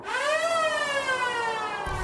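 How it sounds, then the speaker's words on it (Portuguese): Siren sound effect in the video game Circus Electrique, a loud, steady wailing tone with a slow pitch rise and fall lasting about two seconds, cut off at the end by a low thud. "Barulho de sirene, engraçado."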